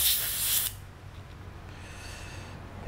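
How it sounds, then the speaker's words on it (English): An airbrush hisses in a loud, close burst for under a second as it is cleaned and flushed, then cuts off to a quiet room hum with a faint breathy hiss and a couple of soft clicks at the end. "I should clean off this airbrush. All right, let's clean it up here."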